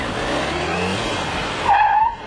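A sports car engine roars steadily at close range while cornering, then tires squeal sharply for about half a second near the end.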